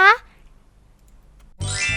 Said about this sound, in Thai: อย่าลืมกดกระดิ่งกริ๊งกริ๊งเพื่อจะได้ไม่พลาดคลิปใหม่ๆของเรานะคะ